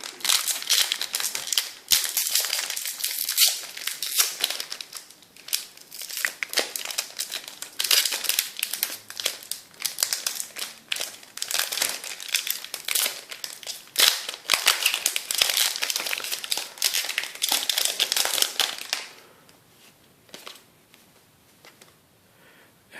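Foil wrappers on Yu-Gi-Oh booster packs from a 2013 tin crinkle and crackle continuously as they are torn open and handled close by, then drop to quiet handling near the end.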